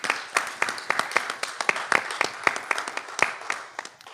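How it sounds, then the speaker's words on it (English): Sparse applause at a financial literacy program launch, individual hand claps standing out sharply and fairly irregularly over about four seconds, with a modest, small-room feel. "Please give a round of applause."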